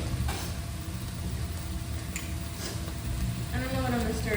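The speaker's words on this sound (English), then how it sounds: "I'm gonna stir this." Tomato soup pasta stirred in a pan on a stove, with soft sizzling and scraping that continues steadily under a person talking.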